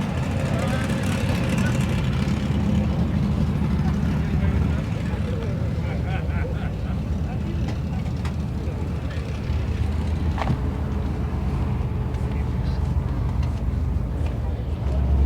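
At Las Vegas Motor Speedway, a Dodge Ram truck's engine rumbles in a low, steady drone mixed with outdoor crowd and traffic noise, while people talk over it throughout.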